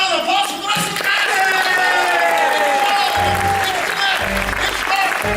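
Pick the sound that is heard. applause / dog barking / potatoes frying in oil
applause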